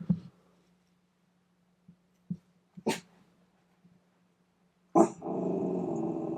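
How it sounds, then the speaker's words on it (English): A pet dog growls in a quiet room, a low steady rumble running for several seconds with a few soft breaths and small bumps, then a louder scuffle and rustling noise at the end. "my dog's growling."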